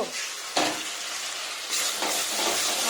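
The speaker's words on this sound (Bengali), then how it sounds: "এই যে মশলাটা আমার কষা চলছে এখানে" Masala for jackfruit kofta fries in a pan with a steady, loud, close sizzle, swelling with a few stirring scrapes, alone without talk.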